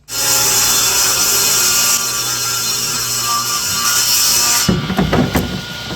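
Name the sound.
saw cutting a wide strip of wood for veneer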